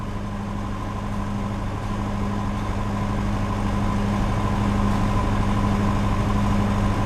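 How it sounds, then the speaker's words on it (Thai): A portable Infinity generator drones steadily at close range, a constant engine hum with a low buzzing tone that never changes over several seconds. "อันนี้ขนาดเครื่องปั่นไฟทำงานนะครับ อยู่ข้างเครื่องเลยนะครับ"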